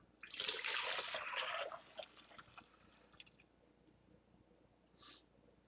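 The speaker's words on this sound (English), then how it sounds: "and then pour it back into the pot." Water is poured from a bowl back into a pot while making homemade fragrance, a splashing, trickling pour that tapers into a few drips, then a brief final splash, heard close and fairly quiet.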